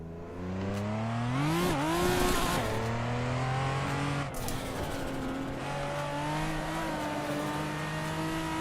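A race car in the video game Assetto Corsa Evo revs and accelerates through rising gear pulls, with a brief upshift dip and a short tire squeal. The engine note is loud and continuous, with no talk over it.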